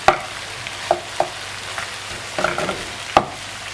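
Meat, peppers and onions frying in a pan, with a steady soft sizzle and a few sharp stirring scrapes and clinks spaced irregularly through the short stretch, close up and moderately loud, with no voices.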